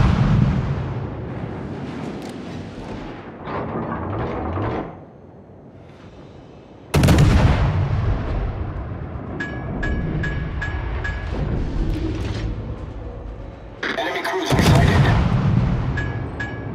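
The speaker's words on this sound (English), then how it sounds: "Concentrate fire on the target." In World of Warships, a warship's artillery fires in heavy booming salvos with rumbling explosions, loud and close, separated by short quieter gaps, with faint game beeps in between.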